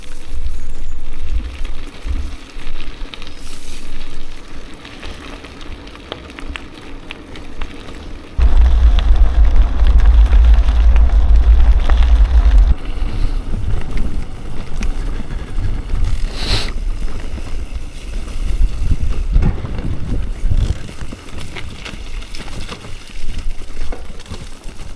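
A Vitus e-Substance gravel e-bike ridden outdoors, carried by heavy, constant wind buffeting and low road rumble that swells into a loud roar midway, with no talking.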